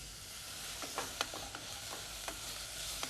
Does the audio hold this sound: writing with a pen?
no